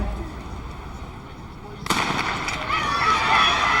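A starting gun fires once at about two seconds to open the women's 4x400 relay at the 1999 NCAA track and field nationals. A sharp crack gives way to loud, sustained crowd roar in a big stadium.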